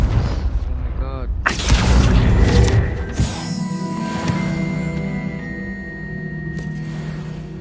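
Confringo blasting spell from Hogwarts Legacy going off in a couple of heavy, booming bursts, the second one larger. Sustained tonal game music and effects carry on beneath them.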